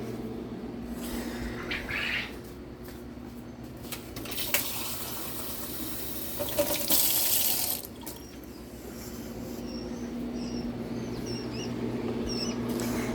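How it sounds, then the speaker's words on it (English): Tap water runs into a sink in a home where baby birds are kept, a steady hiss that swells louder in the middle before settling back, with faint chirps and small scratchy noises around it. "We need to add water."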